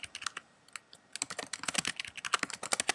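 Rapid typing on a Mac computer keyboard while entering a Minecraft username and password, a dense run of crisp, close key clicks with a brief pause near the start, no talking.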